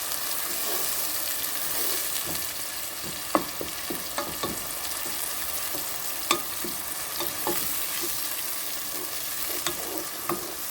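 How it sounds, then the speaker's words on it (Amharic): Onions frying in oil in a pot for an Ethiopian dish, a steady soft sizzle with occasional small pops and stirring clicks, fairly quiet and close. "ይህንን ሽንኩርቱን በደንብ አድርጌ ጠበስ አደርገዋለሁ።"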